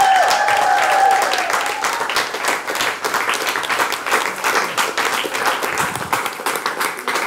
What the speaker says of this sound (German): einen großen Applaus für den ersten Freestyler